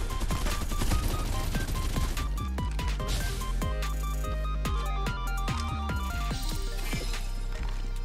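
Gunfire in the video game Farlight 84 rattles in rapid bursts, buried under a loud, busy bed of game music and effects that runs without a break.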